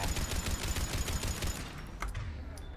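Turret gunfire in the Mass Effect video game, a steady run of rapid repeated shots for about two seconds, then a few scattered impacts as it tails off, close and fairly loud.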